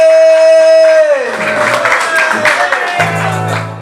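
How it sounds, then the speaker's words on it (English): An audience at an MMA press conference applauds both fighters, a burst of clapping and crowd noise swelling up after a sustained tone fades, continuing fairly loud to the end. "give a round of applause to both fighters"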